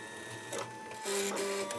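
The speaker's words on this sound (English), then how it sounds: "it automatically threads the thread into the needle" A machine embroidery machine automatically threading its needle, giving a faint mechanical whir with a couple of short motor pulses and a thin steady tone, close by with no voices.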